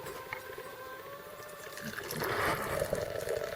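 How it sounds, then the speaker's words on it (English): Light beer of about 4.2 to 4.7 percent being poured into a glass to build a thick head: a soft liquid trickle that swells into a louder, frothy gush partway through, with no talking. "We'll pour it here and make a lot of head."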